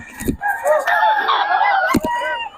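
A stag rooster at a market in Bocaue lets out a close, loud crow with a harsh, wavering call, bracketed by brief bursts of nearby voices.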